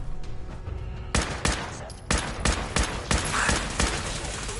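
Combat rifle gunfire in Fallout 4, loud close bursts of rapid shots repeating roughly once a second over several seconds, with quieter scattered shots at the start.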